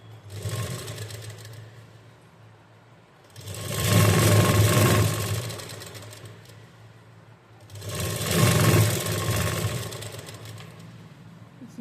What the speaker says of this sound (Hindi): इसको हम उल्टे साइड इस तरीके से सिलेंगे।